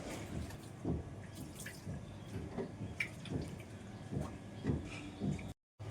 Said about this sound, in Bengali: তাহলে হাতটা ধোয়া হয়ে গেল